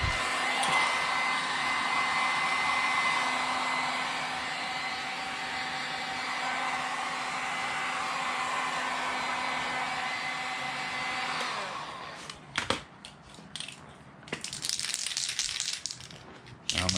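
A hair dryer blows loudly and steadily for about eleven seconds while warming a spray paint can for painting an Arrma Limitless RC car body, then cuts off, followed by clicks and brief spray hiss.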